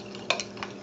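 Muffin batter for pumpkin muffins is whisked with a spoon. The clip is a short burst of a couple of quick scraping clinks against the bowl, close and crisp, with no voices.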